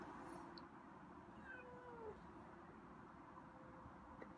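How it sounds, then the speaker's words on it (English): A faint, drawn-out meow-like moan rises and falls once over steady low background noise, no talking. "did you just meow?"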